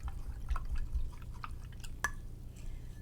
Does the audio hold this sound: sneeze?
no